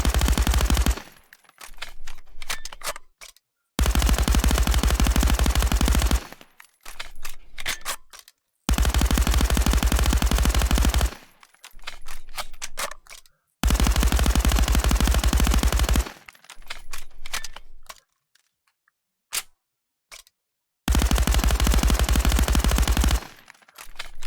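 MP5 submachine gun in the video game Contractors: loud, close full-auto bursts of several seconds each, repeated four times with short silent gaps and lighter mechanical clicks between them, no talking.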